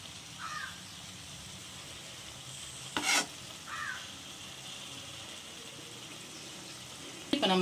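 Boiled eggs drop into a sizzling egg thokku gravy in a pan, a soft, steady sizzle with a sharp clatter midway and another at the very end, no one speaking.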